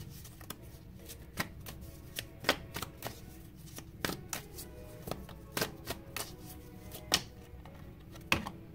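Tarot cards being shuffled, a steady run of soft papery riffles and light snaps with sharper flicks scattered throughout, close and fairly quiet, with no talking.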